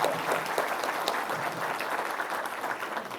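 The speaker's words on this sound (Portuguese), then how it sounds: "para todo mundo dar uma salva de palmas para o senhor" An audience applauds a lawyer being honored, a dense, steady patter of many hands clapping at moderate loudness, close and continuous, with no voices over it.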